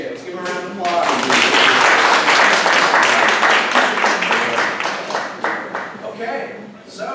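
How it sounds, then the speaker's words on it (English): People at a neighborhood association meeting applaud. The clapping is a dense, close burst that swells quickly and then slowly thins, with some voices mixed in underneath. "Let's give them a round of applause."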